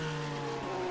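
Race cars, a Lamborghini among them, roar around the Barber Motorsports Park circuit, making a loud, steady, close engine drone with a strong sustained tone.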